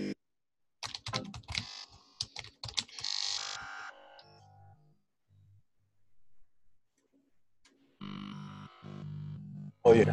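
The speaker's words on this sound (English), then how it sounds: "Type to Dave" Typing on a computer keyboard in a quiet room: bursts of quick, dry key clicks, then a long near-silent pause, followed by a few more clattering strokes near the end.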